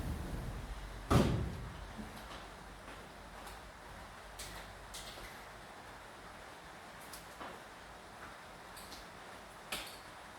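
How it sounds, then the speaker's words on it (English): A single door thuds shut near the start, followed by quiet room tone with a few faint clicks and taps. "just going to shut this door"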